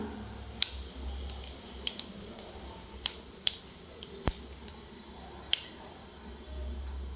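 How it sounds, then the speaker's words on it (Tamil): Fennel seeds hit hot oil in a kadai and crackle with a dozen sharp, scattered pops over a soft steady sizzle, close by and with no talking. "ஒரு கடையில் எண்ணெய் ஊற்றிக்கலாம் எண்ணெய் கொஞ்சோனையும் சோம்பு போட்டுக்குங்க"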